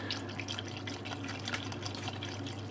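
Milk pours steadily into a bowl while making honey cake, a continuous close liquid stream with a gentle splashing wash running the whole time, with no speech.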